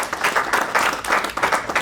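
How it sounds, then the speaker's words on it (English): Audience applause for Dr. Makoni at a talk on the economics of AI and the Zimbabwean economy, a steady burst of many hands clapping with brief pulsing swells and no talking. "Another round of applause for Dr."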